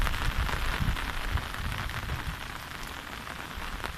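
Heavy rain from a tropical storm pours over rice paddies in Thailand, a dense, steady hiss of drops hitting surfaces close by, with no voices over it.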